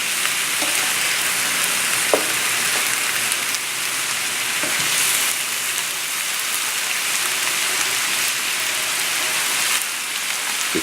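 Shrimp with brown rice frying in a pan, a loud, steady hiss of sizzling oil that runs unbroken throughout, with a couple of faint knocks of a utensil pushing the food down and no talking.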